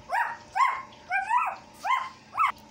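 A voice imitates a dog barking: six sharp, rhythmic woofs spaced about half a second apart, close and clear with nothing else behind them.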